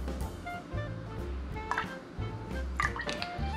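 A quarter ounce of homemade grenadine trickles into a non-alcoholic cocktail, giving a faint, close pour with a few soft drips and liquid splashes.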